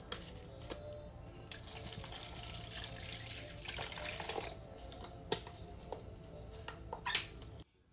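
Water runs from a tap in a steady, quiet splashing stream with a few clatters and knocks of handling nearby, ending abruptly.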